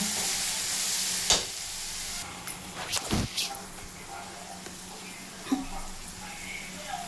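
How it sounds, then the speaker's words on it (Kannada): Tomatoes fry on a low flame in a pan, a steady soft sizzle broken by a few sharp stirring scrapes and clacks, with a person speaking over it at moments. "ಸ್ವಲ್ಪ ಲೋ ಫ್ಲೇಮ್ ಇಡೋಣ, ಸ್ವಲ್ಪ ಟೊಮಟೊ ಬೇಯಬೇಕಲ್ವಾ"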